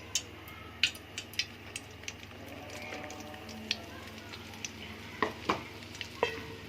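Flour stirred into melted ghee with bay leaf in a pan for béchamel, a low steady sizzle under irregular scraping clicks of a spoon against the pan, close and moderately quiet.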